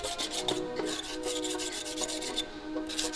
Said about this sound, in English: we got to scrape all the old gasket material off the deck. And really, the best way to do that is just a razor blade on its edge